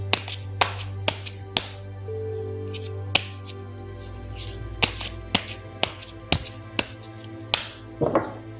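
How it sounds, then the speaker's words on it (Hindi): Tarot cards being shuffled, giving a series of sharp, snappy card clicks and taps at irregular intervals over a steady low hum, with no talking. "चलिए पहले ज़रा कार्ड्स को शफल कर लेते हैं।"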